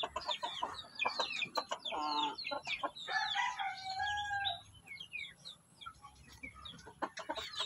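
A Shamo hen and other chickens cluck and call in a backyard flock, with a burst of busy, overlapping clucks and some crowing, then quieter scattered chirps.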